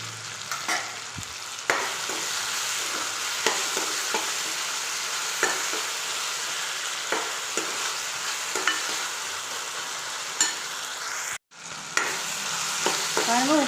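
Tomato gravy with salt sautés in a pan for a neem flower kuzhambu, a steady close sizzle broken by occasional stirring scrapes and knocks.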